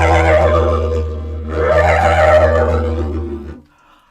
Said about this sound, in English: that's the sound of an animal called a horse